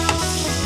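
Green chilli drops into onions frying in hot oil for a fish cutlet, a brief close sizzle with a small hiss as the pieces hit the pan, no voices.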